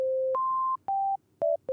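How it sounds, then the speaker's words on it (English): A clean 808-style synth patch built from a single sine wave oscillator plays a short series of pure held tones at shifting pitches, separated by brief silences, loud and alone. "I would just use a sine wave, but turn these other 2 oscillators off so you only have the one"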